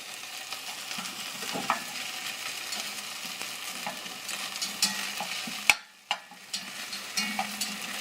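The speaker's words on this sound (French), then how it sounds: "je vais déglacer avec du vin blanc" White wine hits a hot pan of sautéed veal in lightly tomatoed sauce, giving a steady sizzle with stirring and scraping, a sharp hiss burst, and a brief quiet moment before sizzling resumes.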